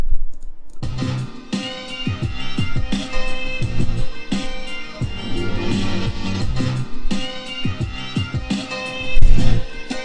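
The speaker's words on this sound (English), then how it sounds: "sounded pretty good for a simple beat so far" A simple programmed drum beat plays steadily with regular kick and snare hits under a dense, busy backing, no voices.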